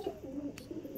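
Pigeons in a loft give soft, low coos in two or three brief pulses, faint and close, with a short rustle in the middle.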